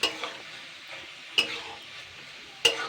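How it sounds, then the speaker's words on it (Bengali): Fish roe frying in a pan as it is stirred, three sharp scraping clinks of a utensil against the pan spaced over a soft continuous sizzle, close and clear with no talking. "এভাবে নাড়াচাড়া করে নিতে হবে"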